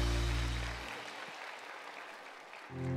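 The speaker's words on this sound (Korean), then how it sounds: "다시 한번 크게 박수해 주시기 바랍니다." A church congregation at a Sunday worship service applauds, a soft, distant wash of clapping sitting under a low hum that fades out and returns.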